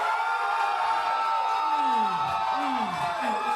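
A comedy show audience cheers loudly for a contestant called Cowboy Fly, with sustained crowd roar, whoops and rising and falling shouts from many voices, steady and close.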